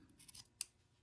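Scissors snipping off excess fabric bulk at a mitered hem corner, a few quick close cuts ending in one sharper snip, quiet and with no talking.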